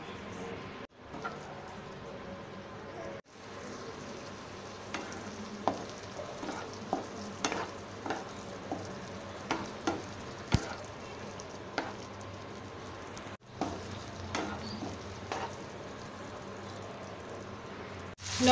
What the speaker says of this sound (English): Now I am going to let it cook again.